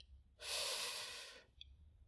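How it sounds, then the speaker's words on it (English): A single slow, deep inhalation during a calm sleep meditation, soft and close, swelling for about a second and then fading, with no talking. "I'm breathing in."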